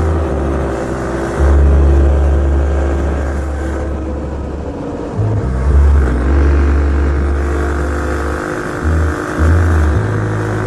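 A Trail 70 CT70-clone small motorbike engine cruising off road, with a steady, loud low drone that swells briefly a few times as the throttle shifts and no voices over it.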